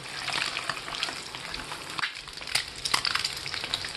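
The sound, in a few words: eggs frying in hot oil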